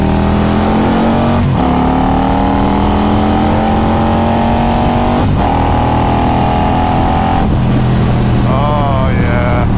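Harley-Davidson Road Glide or Road King with a big bore kit riding and revving hard, loud and close, engine pitch climbing through gears with shifts between pulls and wind noise throughout.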